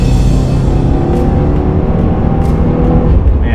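A 2015 Subaru WRX with a smooth turbocharged engine on Dunlop Sport Max tires drives along back roads, giving a steady loud engine drone with road and wind noise throughout.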